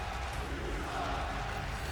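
A virtual arena crowd in a WWE 2K wrestling game reacts to a wrestler's entrance with a steady, dense roar and jeers that hold evenly throughout.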